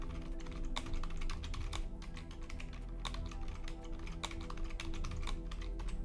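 A password is typed on a computer keyboard as a steady run of quick, close key clicks over a constant low hum, with no talking.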